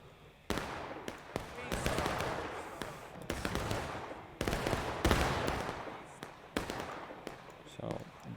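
Cannon fire in a large online multiplayer battle game: repeated sharp booming blasts at irregular intervals, several loud and close, others softer, over continuous crackling gunfire and battlefield noise.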